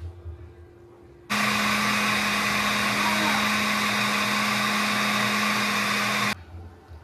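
A kitchen blender grinds ingredients for a Guanajuato-style espinazo pork broth, a loud steady whirring drone that starts abruptly, runs continuously for about five seconds and cuts off, with quieter room noise before and after.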